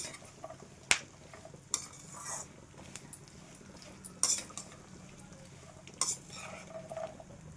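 One cup of peanuts tipped into a frying pan and stirred, giving a few sharp metallic clinks and scrapes of spoon against pan spaced over a low, steady background.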